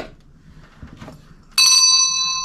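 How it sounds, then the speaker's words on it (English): A heavy brass bell topped with an eagle is struck once, giving a loud, bright, close ring that sustains and slowly decays, after quieter handling noises. "It is a heavy brass eagle bell. That sucker is loud."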